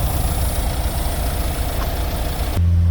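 A vehicle engine runs steadily during a diesel particulate filter cleaning, with DPF cleaning fluid fed in through the oxygen sensor port. It makes a loud, continuous drone that changes abruptly near the end to a lower, smoother hum.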